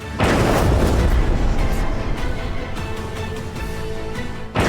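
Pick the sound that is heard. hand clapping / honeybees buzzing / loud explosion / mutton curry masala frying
loud explosion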